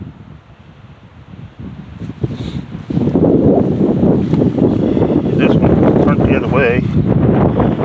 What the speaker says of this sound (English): I do apologize about the wind.